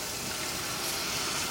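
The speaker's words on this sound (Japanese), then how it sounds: "そしたらここにお湯を入れます" Hot water pours into a pan while making a Chinese-style egg soup, a steady broadband rush of liquid that fills the short moment alone without any talk.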